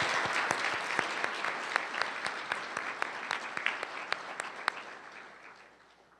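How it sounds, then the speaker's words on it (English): Sustained applause from a school board meeting audience honoring National Merit Commended students, dense clapping with a few sharper individual claps standing out, steady then fading toward the end. "Can we get a second round of applause for our National Merit Commended students?"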